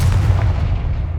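A Confringo blast spell cast in Hogwarts Legacy, heard as a loud, continuous booming rumble with heavy low-end weight that holds steady before cutting off abruptly.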